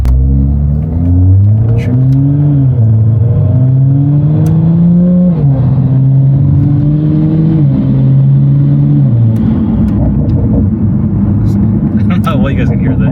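A BMW fitted with an SSR aftermarket downpipe exhaust revs loudly and close up, engine pitch climbing and dropping in several swells before settling, with a brief spoken word near the end.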